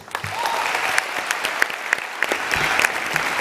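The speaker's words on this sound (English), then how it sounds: "any campus staff from Langham Creek stand so that we can applaud Jasmine's efforts." Audience applause at a formal school board meeting, a steady burst of many hands clapping together indoors, loud and continuous throughout with a few sharp individual claps standing out.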